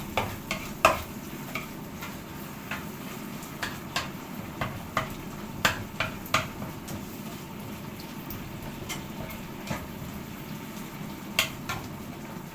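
Seasoned beef mince for cottage pie being stirred in a pan: a steady, close sizzle runs throughout, with regular scraping clicks from the stirring.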